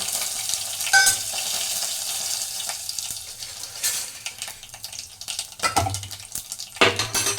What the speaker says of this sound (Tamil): நல்லா பொரியுது.